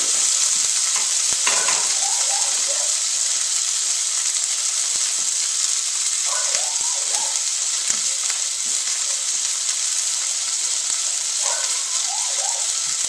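A burger patty sizzles and spits in a frying pan, a steady loud frying hiss broken by occasional pops and brief clatters, with no one speaking.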